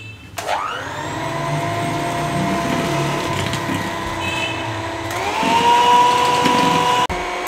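An electric hand beater whirs steadily through red velvet cake mixture, a loud, continuous motor drone that rises slightly in pitch near the end before cutting off briefly.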